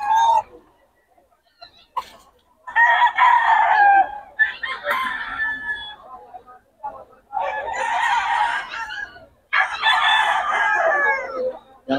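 A bull stag gamefowl rooster crows several times in bursts with short pauses between, loud and close, with some clucking and a voice nearby.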